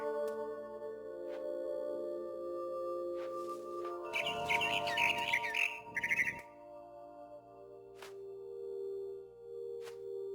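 Bird chirps and trills ring out in the video game What Remains of Edith Finch, a brief flurry of tweets in the middle over a quiet ambient hum with faint scattered clicks.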